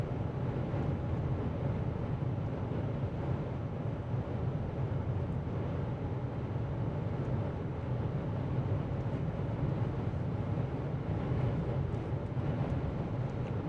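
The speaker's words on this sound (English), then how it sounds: "Man, it's windy out here." Strong wind buffets the microphone outdoors during a Kansas storm chase ahead of a supercell, a steady low roaring rumble that stays loud and unbroken throughout.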